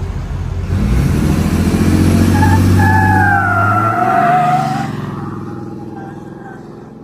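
Blue truck upgraded to over 600 horsepower, its engine roaring loudly with a rising, whistling note, then fading into the distance as the truck moves away.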